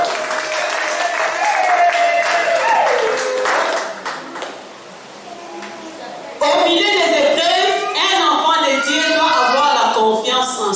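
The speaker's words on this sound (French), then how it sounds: "Est-ce qu'on peut acclamer pour la parole?" A church congregation applauds and cheers with clapping, shouts and voices, loud and busy, dipping briefly midway before surging back even louder.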